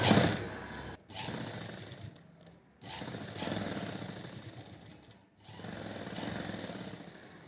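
Sewing machine stitching a silk pavadai skirt for a young child, running in steady bursts with brief stops between runs, close and fairly loud with no talk over it.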